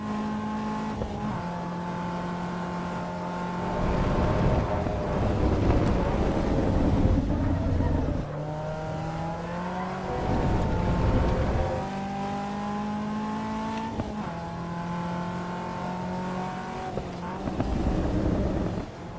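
A Caterham race car laps the Spielberg circuit in Assetto Corsa Evo, its engine note rising and falling through repeated upshifts and braking, with wind rush underneath.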